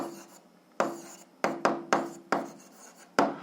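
Pen or pencil writing an answer by hand on paper during a grade 7 algebra exercise, a series of short scratchy strokes and taps at irregular intervals, close and fairly loud, with no talk.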